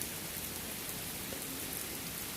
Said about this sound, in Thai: วันนี้ฝนตกเยอะนะครับ